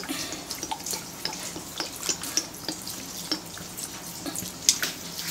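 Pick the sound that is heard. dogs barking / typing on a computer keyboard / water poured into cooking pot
water poured into cooking pot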